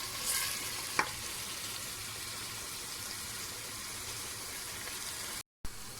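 Tomato paste and meat sautéing in a pan for a meat and dried bean stew, a continuous soft sizzle with a single clack near the start and a brief dropout near the end.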